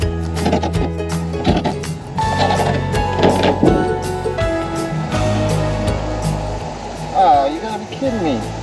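Metal roof screws with rubber washers are driven into a skoolie bus roof, a whirring power driver in short repeated bursts with clicking and rattling, close by, while someone talks.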